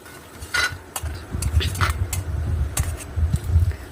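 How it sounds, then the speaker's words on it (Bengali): A handful of peanuts frying in oil in a wok, with stirring and scraping clatter of a utensil against the pan over a low steady background, close and fairly busy. "এবার কড়াইতে তেলের মধ্যে 1 মুঠো বাদাম ভেজে তুলে রাখছি।"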